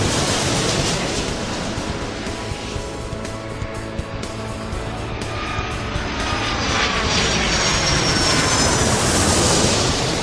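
Jet airliner engines roar loud and continuous while taxiing and taking off in Airport Madness 3, a broad rushing noise that swells toward the end.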